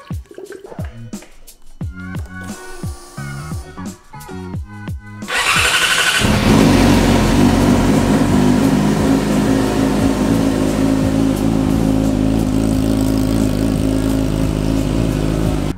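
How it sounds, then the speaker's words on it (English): A 2017+ Yamaha R6 sportbike engine cranks over with rhythmic starter pulses, then fires up and settles into a loud, steady idle that runs on close by for the rest of the clip. "we're gonna run the bike for a few minutes, get everything up to temperature until the fan comes on"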